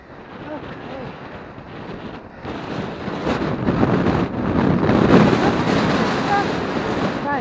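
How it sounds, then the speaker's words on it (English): Strong wind buffets the microphone on a hilltop walking route at Sutton Bank, a steady broadband roar that swells louder toward the end, with people talking briefly. "bit windy, isn't it?"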